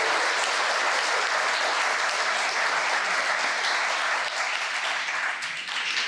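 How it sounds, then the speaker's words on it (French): A live evening audience at a creators' event gives a warm round of applause, dense and loud from start to finish, fading slightly near the end with no speech over it. "Si vous pouvez leur passer un petit applaudissement"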